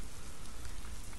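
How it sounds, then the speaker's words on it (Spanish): Steady, dense rain hisses on surfaces outdoors at night, an even wash of patter filling the whole moment without any voices. "Comenzó a llover"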